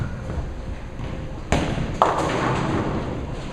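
A bowling ball striking pins in an alley, a sudden crash followed by a second clatter as pins scatter, leaving one standing, all over a constant hum of a busy bowling house.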